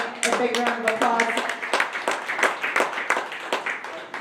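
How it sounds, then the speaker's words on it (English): Audience clapping at a county fair dairy show, a steady patter of many hands over about four seconds, with a voice talking over the start. "Let's go ahead and give all of your individual showmen today a big round of applause."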